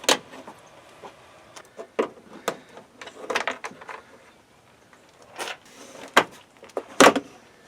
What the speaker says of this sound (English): So let me just pop these clips out of here.